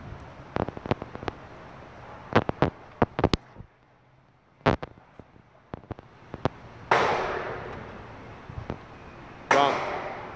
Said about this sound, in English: Gun shooting.